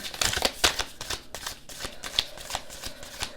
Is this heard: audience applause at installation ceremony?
no